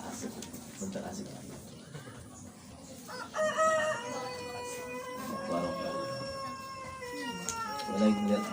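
A rooster crows amid farm animals during an outdoor Quran recitation gathering, its long rising-and-falling call ringing out clearly in the middle, with other animal cries and background voices around it.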